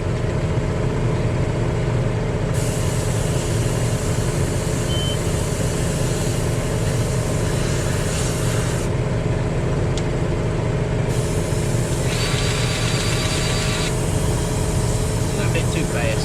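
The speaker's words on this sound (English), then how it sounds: "What y'all hear over there beside you is Michael blowing his radiator out." Compressed air blasting steadily through a radiator on logging equipment, a broad continuous hiss over loud nearby machinery drone, with the air bursts changing in strength partway through.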